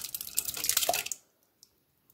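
A short splashy pour of berry ketchup BBQ sauce into a strainer for about a second, then it stops, leaving near silence with a couple of faint drips.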